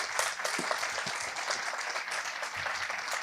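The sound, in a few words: audience applause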